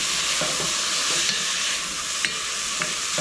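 Canned corn stirred in a hot pot for bacon corn chowder after onion powder, a steady bright sizzle with a few scraping stirs, close and continuous.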